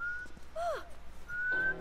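A person whistles a short tune: a steady held note, a swooping slide, then a long rising note, clear and fairly close over quiet background noise.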